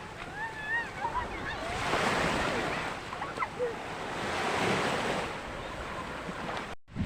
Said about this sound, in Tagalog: Ayan ang ating karagatan mga idol.